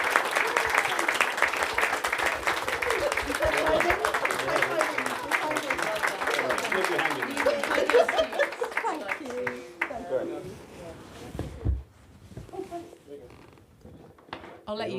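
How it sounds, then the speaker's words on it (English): A conference audience applauds a panel steadily for several seconds with dense, continuous clapping, then the applause thins out and fades as scattered claps and movement remain. "give this beautiful panel a big round of applause"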